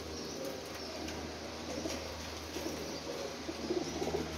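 Pigeons coo faintly beneath a steady background hum, soft repeated calls blending with some light rustling, no speech.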